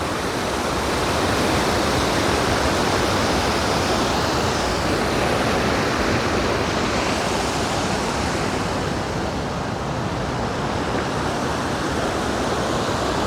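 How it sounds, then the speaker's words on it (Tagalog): A river flowing at a scenic spot known for its cold water, heard as loud, steady broadband rushing that fills the whole span without let-up and with no voices. "So may ilog dito"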